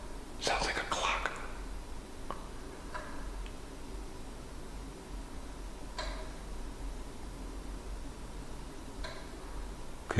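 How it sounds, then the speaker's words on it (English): Slow, irregular ticking taps sound inside a haunted castle, coming from an old barber chair: faint, spaced seconds apart, over hushed whispering and steady background hiss. "Too slow of a tick to be a clock."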